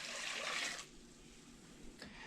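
Four cups of water pour into a cooking pot for homemade pear pie filling, a faint splashing gush that stops abruptly, followed by a quiet drip.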